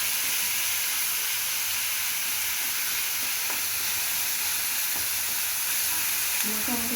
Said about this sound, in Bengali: পেঁয়াজ ভাজা ভাজা হলে তেলটা বেশি উঠবে।